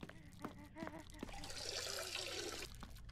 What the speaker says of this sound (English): Is my guy peeing?